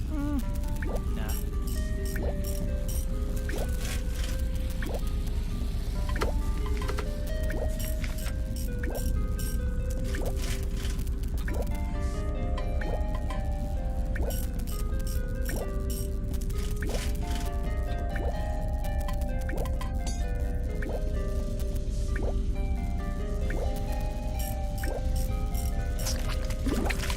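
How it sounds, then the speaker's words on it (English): Water running and dripping through building pipes in The Little Acre, a steady wet trickle with repeated drips and gurgles that continue close and even throughout, with no pauses. "With the obstruction removed, I could hear water flow through the pipes to another part of the building."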